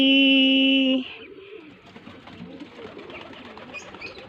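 A pigeon coos softly amid a low, steady rustle of ambient background noise.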